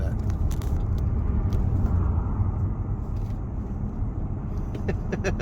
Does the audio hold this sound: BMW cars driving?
yes